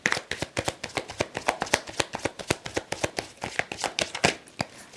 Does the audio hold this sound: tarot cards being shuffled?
yes